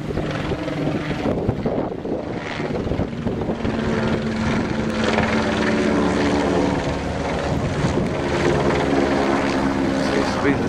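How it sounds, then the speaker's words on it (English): A New Zealand Police helicopter passes overhead outdoors, its steady rotor chop and engine drone loud and continuous, mixed with gusty wind buffeting the microphone. "Day for helicopters flying over the top of me."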